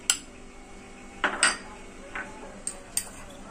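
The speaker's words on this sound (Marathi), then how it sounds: "हे तीळ टाकून घेऊया आपण।" A metal spoon adds sesame seeds to a bowl of flour while making maida chakali dough. There are a few light clinks and scrapes of the spoon against the bowl, close by, with quiet gaps between them.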